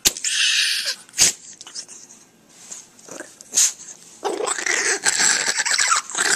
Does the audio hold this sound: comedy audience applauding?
no